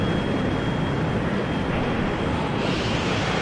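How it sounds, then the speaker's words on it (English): Helicopters pass overhead in the WARNO war game, a steady, loud rotor and engine roar holding level throughout with no pauses and no talking. "Helicopters flying overhead."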